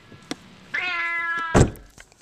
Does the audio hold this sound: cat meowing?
yes